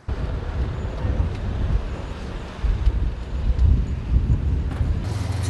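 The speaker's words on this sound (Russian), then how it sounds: "ветер сильно дует" Strong wind roars and buffets steadily in Yakutsk, a dense low rush with gusts swelling and easing throughout.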